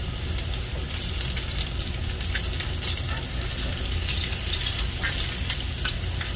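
Vegan boudin balls frying in hot grease, a busy crackling sizzle with sharp pops and spits, steady and close, no talk.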